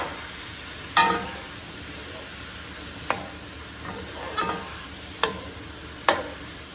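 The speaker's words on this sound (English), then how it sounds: "And give it another stir." Mushrooms and artichokes seasoned with ground pepper sizzle gently in a pan while a utensil stirs them, giving five or so distinct scraping clicks spread over several seconds against a low steady fry, with no talking.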